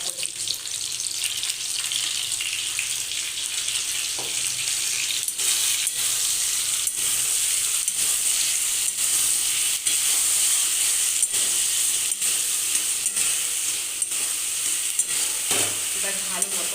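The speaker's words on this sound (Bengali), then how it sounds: "এবার ভালো মতো এটাকে একটু কষিয়ে দেবো।" Spice masala sautéed with prawns, Malabar spinach, potato and pumpkin in a hot pan: a constant loud sizzle broken by regular sharp spatula scrapes and stirs, close up.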